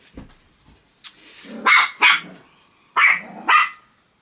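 A dog barks in four sharp bursts, two close pairs with a gap between, fairly near and loud in an otherwise quiet room at home, with a faint rustle before the first bark.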